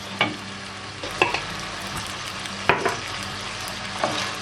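Sliced green peppers and a red kapya pepper sauté in a pan with a steady sizzle, broken by a few sharp scraping clicks of a spoon stirring against the pan. No voices.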